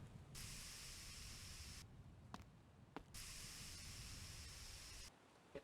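Spray gun painting car parts in a home garage, two long steady hissing bursts separated by a pause with faint clicks, close and even in level.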